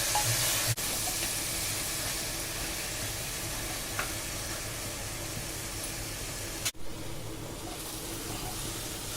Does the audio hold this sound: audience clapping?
no